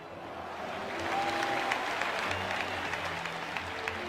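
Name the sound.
audience applause in tribute to Chapecoense victims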